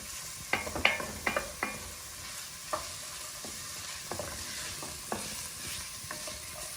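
Mirepoix of onion, carrot and celery sautéing in a pan, a quiet steady sizzle under several sharp spoon scrapes and taps, clustered early and then spaced out, close and without speech.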